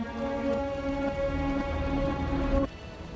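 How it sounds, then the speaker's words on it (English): Steady video game downpour hisses throughout under a sustained low tone that cuts off abruptly near the end, leaving the rain alone. "The rain's getting heavier."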